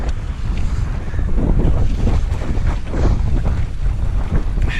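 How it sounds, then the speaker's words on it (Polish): Strong wind on a blustery Saturday near Zduńska Wola buffets the microphone outdoors, a loud constant roaring rumble with gusty surges and no voices. "jest mocny wiatr"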